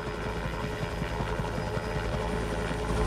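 A helicopter passes overhead with a loud, continuous rotor chop and a pulsing low thump under steady engine whine, holding close and strong throughout without speech.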